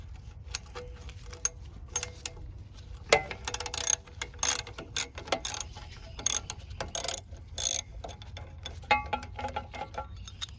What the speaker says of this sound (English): removing mindless numbers of bolts